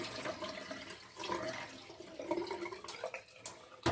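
Tap water splashes and runs continuously into a bowl as rice is rinsed for Pakistani-style chicken biryani, with irregular sloshing and small clatters throughout at close range.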